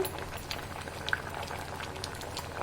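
Raw banana boiling in a pot of water for balekayi vade, a steady bubbling simmer with faint pops and gurgles, close and fairly quiet.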